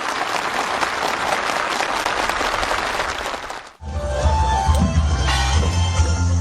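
Enthusiastic applause from participants at a farm-village housing ceremony in Jagang Province, a dense sustained clapping that cuts off abruptly and gives way to a different, busier ambient scene.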